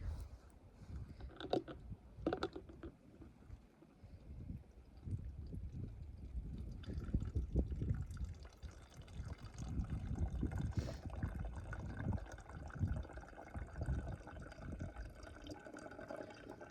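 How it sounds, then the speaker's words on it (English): A backpacking water filter of tiny micro tubes trickles into a third water bottle on a trail trip, the liquid gurgling and dribbling unevenly with plastic clicks and squeezes, close and moderately loud, no talk. "we're gonna go ahead and filter this into our third water bottle"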